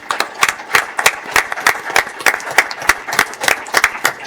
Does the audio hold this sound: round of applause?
yes